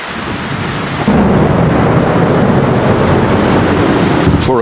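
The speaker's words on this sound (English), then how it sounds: "the rains arrive." Heavy jungle rain pours steadily as a thunderstorm breaks at daybreak, a broad continuous roar with deep rumbling thunder swelling in, loud and close throughout, with no voices.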